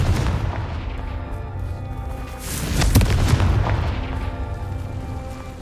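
In Hogwarts Legacy, the Confringo blasting spell sets off a deep rumbling explosion that swells to a boom near the middle and then decays into a low, lingering roar, fairly close and with no talk.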